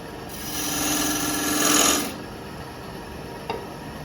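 A 1/4 inch bowl gouge makes small bevel-rubbing cuts into turning wood, giving a steady close scraping rasp for about two seconds before fading, then a single brief tap.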